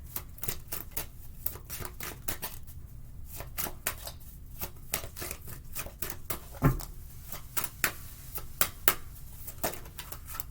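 Playing cards are shuffled and riffled for a tarot-style love reading, a steady run of sharp crisp flicks and slaps close by, fairly quiet, with no talking.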